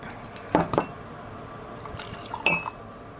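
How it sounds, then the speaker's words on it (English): A drink is poured into a glass with a few clinks of glass and liquid splashing, quiet and close, with faint background noise. "pour yourself a glass"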